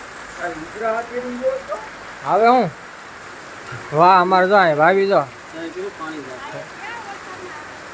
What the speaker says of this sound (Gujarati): વરસાદ તમે અત્યારે જોઈ શકો છો